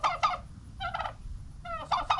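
Three bursts of turkey gobbling, rapid rattling calls close by on a farm with quail enclosures, separated by short pauses over a low background rumble.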